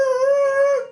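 A person vocally imitates a dog, giving one drawn-out, steady howl-like whine that lasts about a second and stands alone, close and clear.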